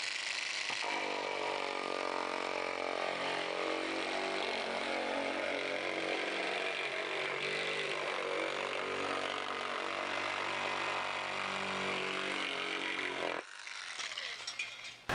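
Cordless power shears run continuously for about thirteen seconds cutting a sheet metal fender, a loud, steady buzzing mechanical drone that stops abruptly, followed by a brief quieter rattle.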